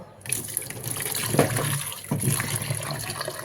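Grapes for a small child being rinsed under a running kitchen tap, a steady close stream of water splashing over the fruit in a sink with brief louder surges, no talking.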